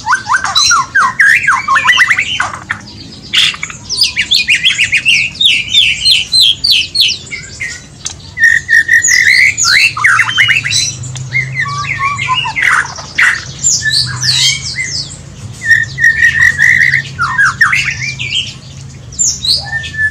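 A white-rumped shama (murai batu) calls loudly inside an aviary, pouring out rapid, varied squawks, chirps and whistled phrases in near-continuous bursts with brief pauses, close and dominant throughout.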